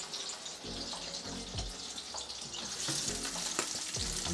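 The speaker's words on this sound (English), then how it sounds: "We want that skin to crackle up, to get a little crispy on the bottom before you flip it." Trout fillets sizzle and crackle in a hot frying pan, a steady close hiss with occasional low knocks and clatter of the pan, heard alone without talk.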